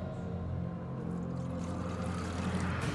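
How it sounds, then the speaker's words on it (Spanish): River water flowing steadily as a sound effect in a spoken scary story, a continuous broad rushing wash with low rumbling undertones, close and even throughout with no voices over it. "El agua del río correr."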